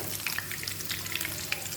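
Close, continuous sizzling of brinjal slices shallow-frying in a pan of hot oil in a village kitchen, with small bright spatters and pops over an even hiss.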